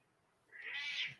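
A kitten gives a single short, faint meow indoors, rising and fading within about a second against a quiet room.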